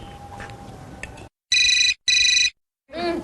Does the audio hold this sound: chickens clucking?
no